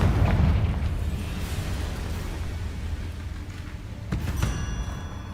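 A Confringo spell explosion in the game Hogwarts Legacy, opening with a loud booming blast that rumbles down, then a second sharp burst a few seconds later, no talking.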